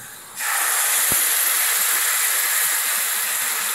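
Jaggery and coconut milk go into a hot pan with toasted coconut for sweet coconut rice. After a brief quiet start comes a sudden loud, steady hiss of bubbling liquid that stays strong and even throughout.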